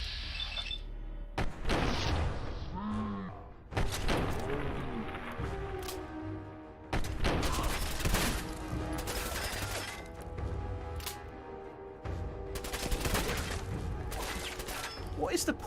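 Gunfire in the video game Fallout 4, several sharp bursts of shots spread across the stretch, with mechanical clicks and reload sounds between and someone talking at times.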